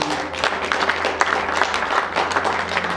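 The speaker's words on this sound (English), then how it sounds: "Give the Lord a good clap." A crowd claps steadily in a dense, continuous wash of applause, fairly close and even in loudness throughout.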